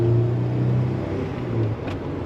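A 1993 Toyota truck accelerating on the road, its engine a steady loud low drone with harmonics rising slightly and road rumble throughout, heard from inside the cab.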